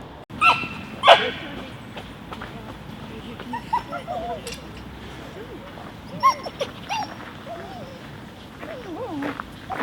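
Dogs being readied for a trip to the dog park bark, yip and whimper in scattered bursts close by, mixed with people talking nearby.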